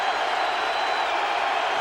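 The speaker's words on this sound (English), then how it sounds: "The crowd picks up the noise level as it's 3rd down and 5." At a 2006 NFL game between the Bills and Colts, a stadium crowd swells with steady, loud roaring noise on third down, a continuous dense wash with no distinct voices standing out.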